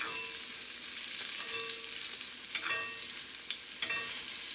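Salmon searing in a pan with butter, a close, steady sizzle and crackle with occasional spoon scrapes and taps against the pan, no voices.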